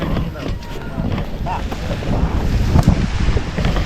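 Gusty wind buffeting the microphone along a shoreline, with waves washing in underneath and a few faint voices in the background.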